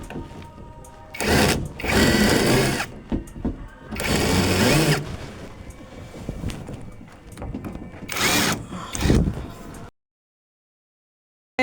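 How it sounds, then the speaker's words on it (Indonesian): An impact wrench loosens bolts on the speaker bracket of a mobile sound system rig, with loud rattling bursts of a few seconds each and short pauses between them, nearby, before a sudden cutoff. "kita jangan lupa untuk mengendurkan baut yang ada di kuncian sini menggunakan impact."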